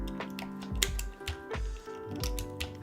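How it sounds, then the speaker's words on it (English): Keystrokes on a Keycult No. 3 mechanical keyboard, a close, quiet run of clicky taps in an uneven rhythm, with a few heavier bottom-out thocks and no voices. "I think this keyboard is a really nice sounding Keycult"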